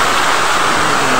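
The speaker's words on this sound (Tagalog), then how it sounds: "Grabe yung ulan to, ang lakas to." Heavy rain pours down as a dense, steady roar of broadband noise, loud and unbroken from start to end with no talking.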